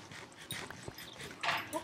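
A dog in a video game whimpers in short, high, fairly close whines, with a louder cry near the end.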